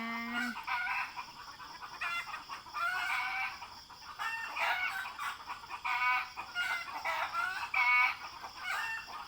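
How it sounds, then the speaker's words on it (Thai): Roosters crow repeatedly in long rising calls with clucking hens around, several birds overlapping across a steady outdoor morning background, no talking. "เสียงไก่"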